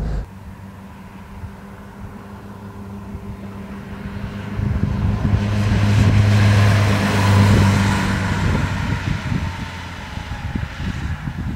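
1962 Mercedes 190 SL engine running smoothly, a low steady hum that swells louder midway before easing back, with rough wind-like buffeting toward the end.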